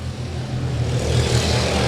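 Super modified race cars roar around an oval during a memorial race, a continuous loud engine drone that swells slightly as the pack passes, steady throughout with no speech.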